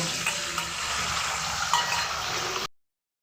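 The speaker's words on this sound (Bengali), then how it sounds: "ডিম ভেজে নেব।" Eggs fry in hot oil in a kadai, giving a close, even sizzling hiss with a few faint clinks, cutting off abruptly after under three seconds.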